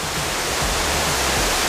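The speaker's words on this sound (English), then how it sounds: "Fairly impressive waterfall." Dip Falls, a waterfall in Tasmania, roars as a steady, loud broadband rush of falling water with a deep low rumble, continuous and close throughout with no talk.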